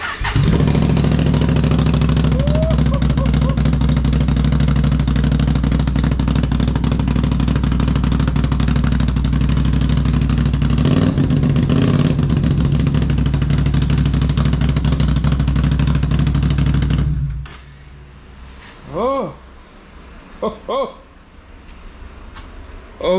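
A Can-Am Renegade Gen 2 ATV with HMF exhaust, freshly fitted with a new fuel pump, runs loud and rumbling close by for about seventeen seconds, then shuts off, leaving quiet with a few bursts of talk.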